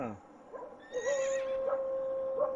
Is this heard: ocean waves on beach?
no